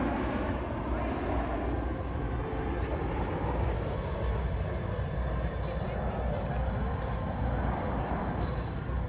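A steady, broad Osprey tiltrotor aircraft drone in airplane mode at an air show hums at a moderate distance, even and unchanging throughout, fairly subdued rather than thunderous.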